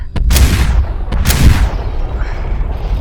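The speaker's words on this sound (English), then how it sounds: "that spray fire really should have gotten him" Bursts of automatic gunfire sprayed in the SuperHot VR video game: two loud, closely spaced volleys with sharp attacks, each trailing into a booming, reverberant tail, with no talk over them.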